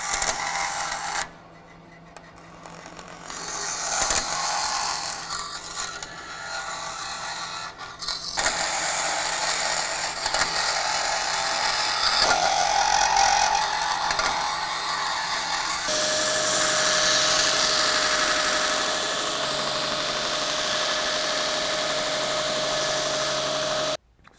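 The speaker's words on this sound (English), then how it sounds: "I'll trim that away, I'll take it to the grinder, I'll profile that up to that scribe line" A saw and bench grinder trim and profile knife scales for a liner lock folding knife, giving a continuous loud machine whine with shifting pitch and a steady motor hum, with no talk.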